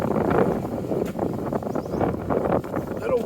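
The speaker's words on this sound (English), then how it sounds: "A little windy down here." Wind gusts outdoors and buffets the microphone in uneven, rushing bursts of broadband noise. The gusts are close and fairly loud, rising and dipping every fraction of a second.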